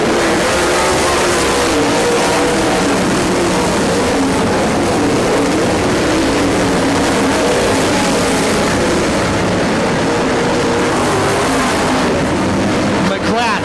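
Race cars circling a dirt oval track, a steady loud roar of several engines passing throughout while a race announcer talks over the noise.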